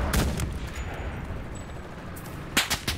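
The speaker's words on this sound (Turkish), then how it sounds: "Yine teki bana sıkıp duruyor orada." Gunfire in the World War II shooter Enlisted, with a loud close shot at the start, scattered distant firing through the middle and a quick cluster of sharp shots near the end.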